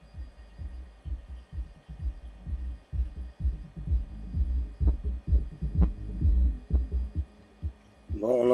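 A repaired SoundQubed U1-5000 car amplifier, once switched on, sends low thumping bass pulses in an irregular rhythm through a speaker, steady and moderately loud, with a brief rising tone at the very end.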